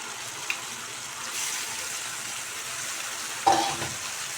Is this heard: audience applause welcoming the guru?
no